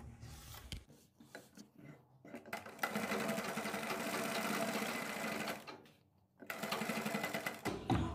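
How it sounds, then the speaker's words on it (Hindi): Sewing machine stitching piping around a kurti neckline at a boutique, running in several bursts: short stops and starts early, then a long steady whir, a brief pause, and another close, loud run. "तो इसको भी हम सिलाई लगाकर यहाँ पर पैक करेंगे"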